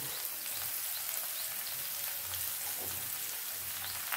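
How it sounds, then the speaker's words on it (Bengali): Tomato paste fries in a pan while being turned over, a faint, even hiss of sizzling oil that continues without a break and has only slight stirring movement underneath. "এটা আমি এখন নাড়াচাড়া করে কিছুক্ষণ ভেজে নিই"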